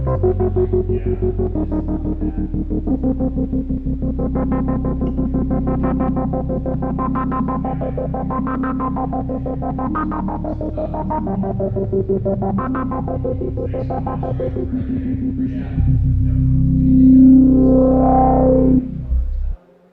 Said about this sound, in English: Two different wave shapes going at different rates can create some really cool rhythmic textures